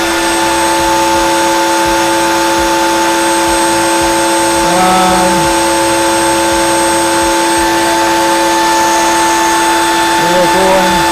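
Wood router running steadily on a Gifkins dovetail jig cutting a taped-together wooden trinket box, a loud continuous high motor whine with a steady hum and brief bursts of cutting noise.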